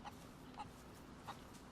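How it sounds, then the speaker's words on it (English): A rooster clucks in short, faint calls at roughly regular intervals over a steady low ambient bed in the survival video game DayZ, with no one talking. "So there is a rooster nearby"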